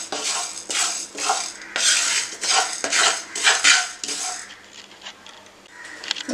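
Spice powder dry roasting in a pan over a low flame for a Tamil kuzhambu, heard as repeated close metallic scraping and clinking of a spoon against the pan in steady bursts, with no talk.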